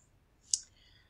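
A single sharp computer mouse click, made while saving a downloaded PNG file, stands alone against a quiet background.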